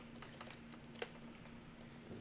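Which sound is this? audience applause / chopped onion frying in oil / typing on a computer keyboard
typing on a computer keyboard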